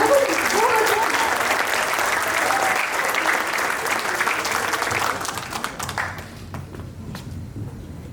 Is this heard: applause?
yes